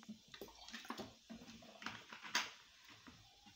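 Mineral water is poured for making fruit kefir, a steady, close splashing trickle with irregular small bursts, lasting a few seconds with no talking.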